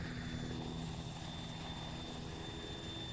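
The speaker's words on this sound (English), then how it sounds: "There's been some helicopters that have been patrolling around here" A patrolling helicopter in a military video game, its rotor drone steady and constant at moderate distance, with a faint engine whine running under it and no talk.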